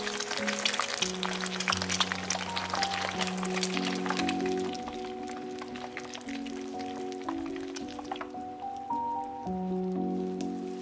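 Egg frying crispy in hot oil, a dense crackling sizzle with constant spitting pops, backed by soft sustained musical tones throughout.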